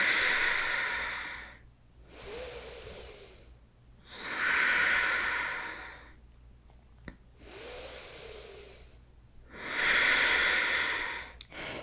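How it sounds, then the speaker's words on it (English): Slow, deep breaths during a standing forward-fold halfway lift in a yoga flow: three long airy inhale-exhale cycles, each swelling and fading over a few seconds, close and clear with quiet gaps between. "Take 3 big breaths here."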